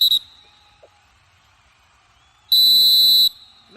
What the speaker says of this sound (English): think that's the final whistle of the match